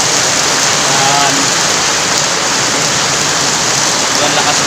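Heavy afternoon downpour drumming steadily and loudly without a break, a dense continuous wash of rain on surfaces close by.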